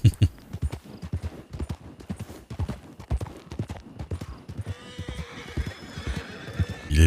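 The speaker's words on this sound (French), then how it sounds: "Ah, votre cheval est rapide comme l'éclair." A fast-moving horse clip-clops steadily on hard ground, close and loud, with rapid repeated hoof strikes throughout and a whinny breaking in toward the end.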